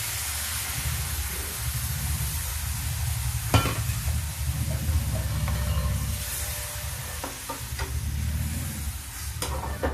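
Pumpkin halwa, raw green pumpkin cooked like bottle gourd halwa, simmers and sizzles in a pan after milk is poured in, a steady close hiss with stirring scrapes and a few sharp clinks over low heat.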